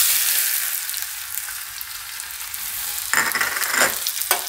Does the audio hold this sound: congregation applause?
no